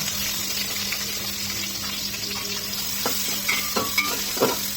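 Chopped onion and garam masala fry in hot soybean oil for a simple chicken curry, giving a steady close-up sizzle with a few scraping stirs and louder clatters near the end.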